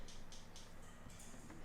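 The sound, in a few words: air can noise preset shaped like short pluck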